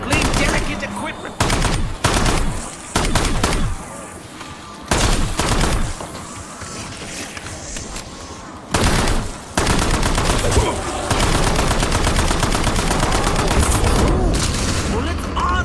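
Rapid video-game gunfire in a cursed game mode, loud bursts of automatic fire broken by brief pauses, then a long sustained volley near the end, with some voice underneath.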